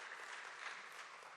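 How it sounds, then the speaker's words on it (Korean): Brief burst of steady applause from a congregation at a Sunday worship service on a school campus, dense even clapping filling the whole moment with no voices over it. "우리 이왕 치는 박수, 하나님께 영광의 박수, 힘찬 박수 한번"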